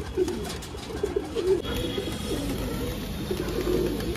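A family of Siraji pigeons coos nearby in soft, repeated throaty calls over a steady background hum.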